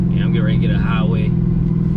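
Engine of a 2020 Dodge Charger Hellcat Widebody heard from inside as a steady, loud low rumble while pulling onto a highway, with a person talking over it throughout.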